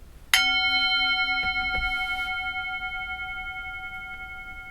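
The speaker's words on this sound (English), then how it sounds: "I'm going to ring the bell." A single meditation bell struck once rings out clearly, its pure tone lingering and slowly fading for several seconds in a quiet room.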